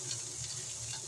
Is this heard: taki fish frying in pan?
yes